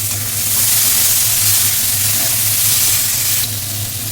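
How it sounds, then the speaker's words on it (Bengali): Boiled chickpeas sautéing in a hot pan for chole, a continuous loud sizzle and hiss with a low steady hum beneath, easing slightly toward the end. "অল্প একটু চানাকে আমি কষে নিয়ে একটু হাতার উল্টো পিঠ দিয়ে একটু ম্যাশ করে নিচ্ছি"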